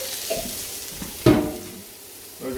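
Meat searing in a pan for birria-style tacos, a low sizzle broken by a loud scrape or clunk of the meat being turned midway and another shuffle near the end, no voices.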